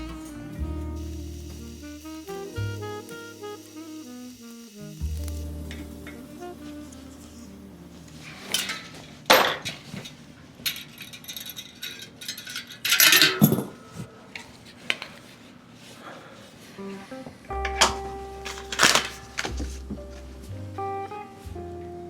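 A bicycle disc brake rotor is fitted onto a hub of a Giant Talon 3 mountain bike, with scattered metallic clinks, ticks and small rattles of parts and tools, close and intermittent, no talking.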